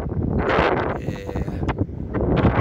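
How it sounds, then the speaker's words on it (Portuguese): Outdoor wind in Aguilar de Campoo, Spain, buffets the microphone in loud, uneven low rumbling gusts that rise and fall across the short stretch. "Tá ventando um pouco aqui, não sei como é que tá o som aí, se tá tendo alguma interferência"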